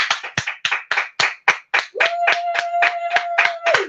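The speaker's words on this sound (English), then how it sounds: "round of applause for your next act" A comedy club audience at a one-liner show claps in sharp, distinct bursts, roughly a dozen loud close claps, then turns steadier while a sustained musical tone comes in underneath.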